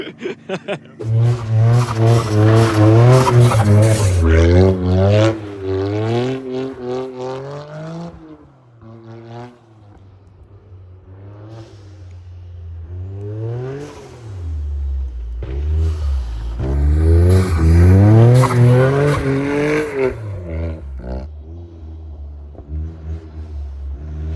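A Toyota GR Yaris engine drones and revs loudly and continuously while driving on snow, rising and falling in pitch with bursts of acceleration, with faint scraping underneath.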